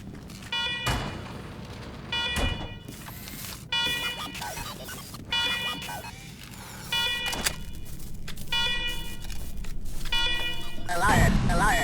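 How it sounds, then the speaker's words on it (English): Repeating electronic alarm in the video game Wasteland 3, blaring in stacked harmonic bursts that pulse on and off over a steady rumble, with a robotic voice speaking through it. "Alarm! Alarm! Alarm!"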